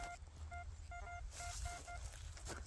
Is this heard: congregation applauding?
no